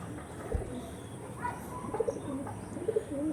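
Pigeons coo softly in short, low murmuring bursts, several overlapping calls against a quiet background with faint ambient rustle.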